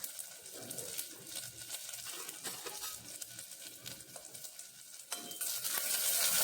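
Cut carrots and potatoes are tipped into a frying pan and stirred while cooking palak pulao, giving soft scraping stirs over a low sizzle that grows louder toward the end.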